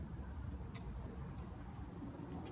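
A K24-swapped car engine runs steadily nearby as a loud, continuous low rumble with a smooth, even idle or rev and no distinct surges.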